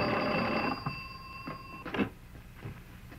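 An old-fashioned telephone bell rings loudly with a sustained metallic trill for nearly two seconds, then stops, followed by a few soft thuds and movement sounds indoors in a rural farmhouse setting.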